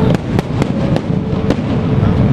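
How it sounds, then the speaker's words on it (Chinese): A fireworks show over the night sky at Tamsui Fishermen's Wharf, New Taipei, sets off about seven sharp booming bursts in quick succession over a dense, continuous crackling roar. "五光十色的烟火在夜空中绽放光芒，呈现出各式各样的主题图案。"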